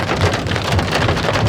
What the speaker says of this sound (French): Il y a pas mal de pluie aussi, donc on va attendre un peu.